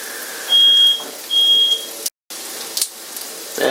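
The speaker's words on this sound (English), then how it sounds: "Oh, and there's the smoke detector." A kitchen smoke detector sounds two loud, sustained electronic beeps in a row while eggs cook on cast iron, followed by brief silence and soft frying noise.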